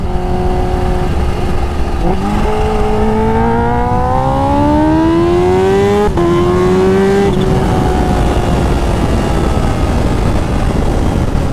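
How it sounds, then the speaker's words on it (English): A loud H2 motorcycle with a flashed ECU and Vandemon titanium exhaust revs and accelerates, its pitch climbing steadily through a gear, dropping at a shift, then rising again with a raspy exhaust roar. "Best sounding exhaust"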